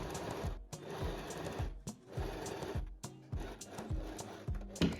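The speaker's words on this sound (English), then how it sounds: "already sewed the first elastic band to our panel" Sewing machine stitching an elastic band onto a summer dress panel, running in repeated short bursts of whirring stitches with brief pauses between them, close and steady, no talking.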